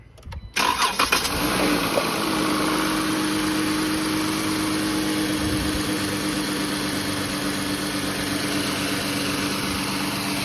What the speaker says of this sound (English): So it's going to start sucking it up as we run the engine right now and get it circulating.